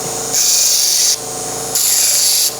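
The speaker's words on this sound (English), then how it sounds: "I like to just give it a nice little bevel." A steel putter shaft's freshly cut end is bevelled by grinding or filing, two steady abrasive passes of under a second each with a brief gap, close and loud.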